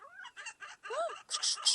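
Seagull calling outdoors during a street interview by the sea, a run of loud, close, chattering squawks and cries lasting under two seconds, with no speech over them.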